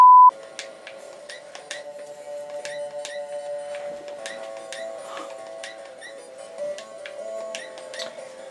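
Landmaster video game running on a Raspberry Pi emulator, with a steady electronic drone and a rapid string of short clicky ticks and blips, fairly quiet and with no talking.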